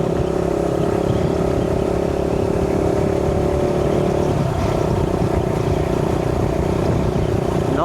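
A motorcycle engine on a full tank drones loud and close, holding a steady throaty hum that shifts slightly in pitch midway, with no clear speech over it.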